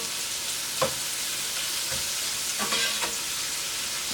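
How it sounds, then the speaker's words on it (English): Shrimp fry in oil in a hot pan while they are moved around: a steady, close crackling sizzle with a few soft scraping stirs breaking through, and no talking. "now just move these around and make sure that they come in contact with the actual pan so they can begin cooking"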